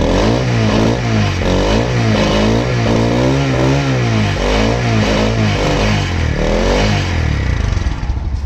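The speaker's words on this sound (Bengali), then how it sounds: "দেখো বাইকটি সাউন্ড" A used motorcycle with about 17,000 km on it revs steadily and loudly, its engine note rising and falling in a rhythmic pattern under continuous exhaust noise, with no talk.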